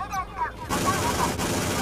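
Rapid gunfire rattles in a naval combat video game involving a Scorpion helicopter, a dense, loud continuous burst of shots over a short stretch.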